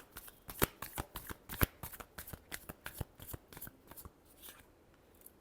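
Tarot cards being shuffled by hand, a series of crisp riffling snaps in an irregular rhythm, close and fairly quiet, with no talk.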